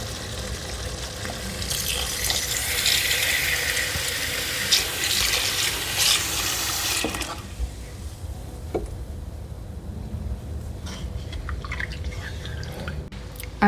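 Water pours steadily into a soup pot for about seven seconds, a broad rushing stream that then stops, leaving quieter drips and small clinks of the pot.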